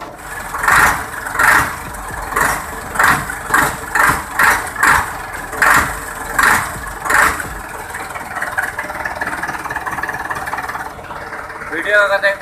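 A Massey Ferguson 385 tractor engine runs at a low, steady idle in a village setting, with someone talking loudly over it in rhythmic bursts for most of the stretch before the engine carries on alone.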